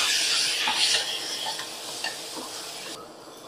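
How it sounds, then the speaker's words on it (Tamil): Green chillies, ginger and garlic sautéing in a pan for a Kumbakonam kadappa side dish: a loud close sizzle with scraping stirs that fades as the heat settles near the end. "பச்சை மிளகாய் இஞ்சி பூண்டு சேர்த்து 2 நிமிஷம் வதங்கணும்"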